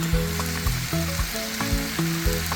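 Scallions sizzle as they are stir-fried in a hot pan, a steady loud frying hiss with rhythmic scraping and stirring strokes recurring every half second or so.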